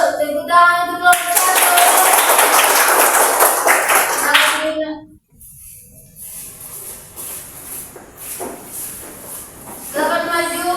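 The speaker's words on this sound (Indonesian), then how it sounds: "Tepuk tangan untuk kelompok" A class claps for a student group during an Islamic religious education lesson on reading Surah Al-Ma'un. Loud, dense clapping runs for about four seconds, then quiet room noise follows with some shuffling, and a voice speaks near the end.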